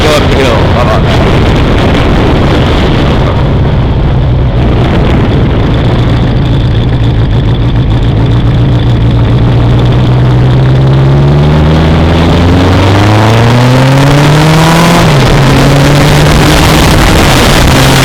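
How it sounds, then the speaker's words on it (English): A big truck climbs a hill on a road, its engine droning and rising in pitch as it labors past, heard loud and close from a motorcycle stopped by the roadside. "Let's wait for the big truck to go up the hill."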